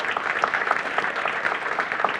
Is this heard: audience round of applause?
yes